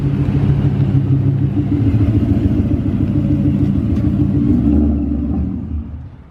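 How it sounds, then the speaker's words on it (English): A supercharged Mustang with a 10-speed transmission pulls in, its engine giving a loud, steady low rumble that fades away at the end. "I'm just waiting on my buddy Alex to get here in his 10-speed supercharged Mustang."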